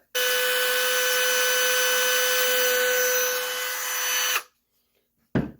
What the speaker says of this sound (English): So I've loaded the drill bit into my Dremel